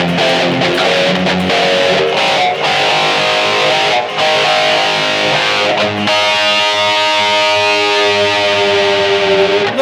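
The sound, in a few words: Distorted electric guitar through BOSS eBand JS-10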